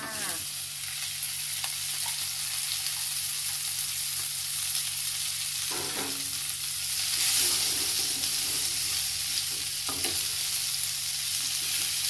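Kale and canned fish stir-fry in a hot pan, a steady close-up sizzle that hisses throughout, with occasional scrapes and clacks from the stirring utensil, no voices.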